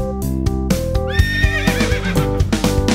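A horse whinnies loudly in a shrill, wavering cry, with clip-clopping hooves and musical accompaniment underneath.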